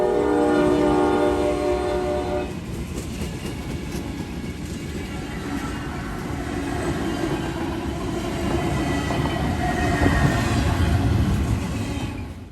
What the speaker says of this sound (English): the train being led by CSX's 776 and 7777